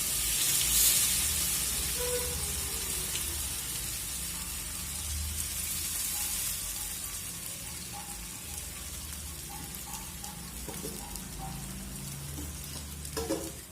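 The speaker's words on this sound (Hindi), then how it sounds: "ये इस तरह से थोड़ा थोड़ा पूरे में ऐसे करके डालेंगे" Flattened rice (poha) scattered a little at a time into a hot pan over low flame for aloo poha, giving a steady soft sizzle and hiss with light scattered pattering, close and fairly even throughout.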